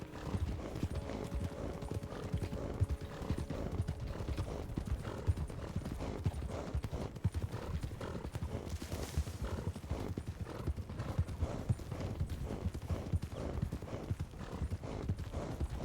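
A horse in the video game Red Dead Redemption 2 clops along steadily with close, even hoofbeats. Loud, heavy breathing and a brief snort or whinny run over the hooves.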